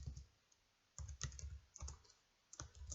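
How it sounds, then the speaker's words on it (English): Keystrokes tapped on a computer keyboard while entering a name and street address into a form, arriving in short irregular bursts with pauses between, faint and close with no talking. "So let's type in something, just like Steven"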